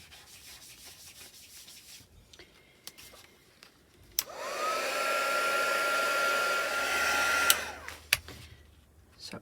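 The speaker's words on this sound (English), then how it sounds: "So I will dry it with my heat tool." Heat tool drying dyed paper: after some small handling clicks, a steady close whirring blower starts and runs for about four seconds, then cuts off.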